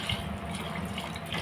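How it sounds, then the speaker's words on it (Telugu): Water pours into a pressure cooker holding toor dal for tomato pappu, a soft, steady splashing stream heard up close with no talk. "3 గ్లాసెస్ వాటర్ పోయాలి"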